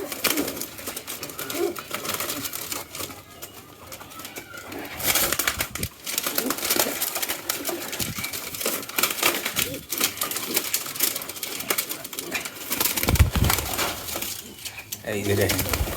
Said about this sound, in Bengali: এই যে দেখেন কবুতরের অবস্থাকে